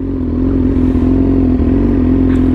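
Yamaha R6 sport bike with an insanely loud aftermarket exhaust, a steady, loud droning engine note with a strong low hum that holds even throughout, close up.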